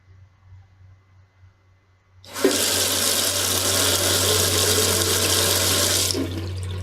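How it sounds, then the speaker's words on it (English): Water gushes steadily from a faucet into a sink, starting abruptly after a quiet moment and cutting off near the end, loud and close over a low hum. "When I turn the faucet on the sink"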